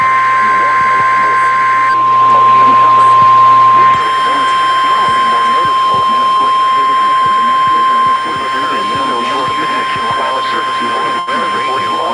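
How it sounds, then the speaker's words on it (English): A National Weather Service radio warning alarm test plays as a long, loud, steady electronic tone with a second shrill tone partway through, broadcast over a radio channel with voices and static underneath. "You have just heard a test of the National Weather Service radio warning alarm feature."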